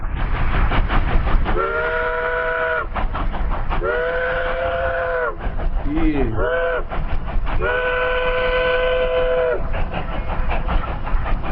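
A loud V&T steam locomotive whistle blows in three long blasts with a short warble between, over the heavy chugging rumble of the train arriving at the Eastgate depot.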